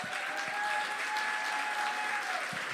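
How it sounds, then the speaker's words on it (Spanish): A church congregation applauds steadily at a women's worship gathering, a dense wash of clapping held at even strength throughout, with a sustained tone and faint cheering blended in. "Denle un aplauso al Señor."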